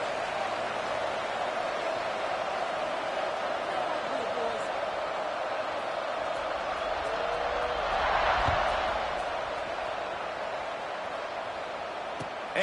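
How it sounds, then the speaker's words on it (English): A crowd murmurs and buzzes through a football stadium after a touchdown, a distant, steady roar with a brief swell of cheering midway and a thud at the very end. "this crowd is buzzing after that last score"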